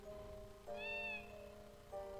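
A lost cat gives a drawn-out, rising meow near the middle, heard close but quiet above a steady low hum in the room.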